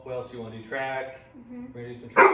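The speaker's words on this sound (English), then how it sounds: "That's our dog Macy in the background." Macy, the family dog, barks and yips excitedly in the background, several short sharp barks rising clearly at the end, while people talk in the foreground.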